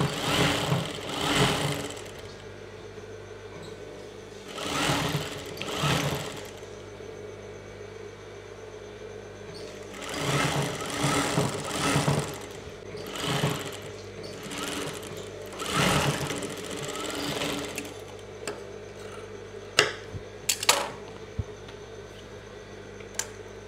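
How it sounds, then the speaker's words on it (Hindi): A sewing machine stitching an Afghani salwar runs in several bursts of rapid whirring, each a second or two long with pauses between, close up, followed near the end by a few sharp clicks. "अभी हम बराबर कपड़ा करते हुए इसको सिल के ले जाएंगे दूसरे पैर से"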